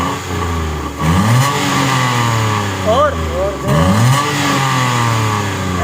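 A Suzuki Alto VXL 660cc petrol engine revved repeatedly, rising and falling through several throttle blips close by, while someone talks over it.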